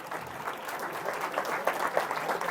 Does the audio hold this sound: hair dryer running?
no